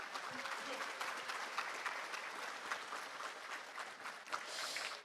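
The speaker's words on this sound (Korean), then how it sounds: "여러분 다시 한번 뜨거운 박수 부탁드립니다" A crowd claps warmly and continuously at a Constitution Day ceremony in the National Assembly hall, heard from a distance as an even, sustained wash of applause.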